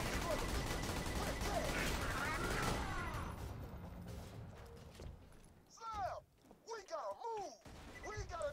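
A gun fires in Borderlands 2 during a fast-paced speedrun, with a quick burst of loud shots early on that quickly thins out, while a person talks over the action.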